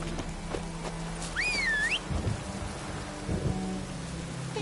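Steady rain hisses with low rumbles underneath in The Witcher 3 video game, and a brief rising whistle-like cry cuts through near the start.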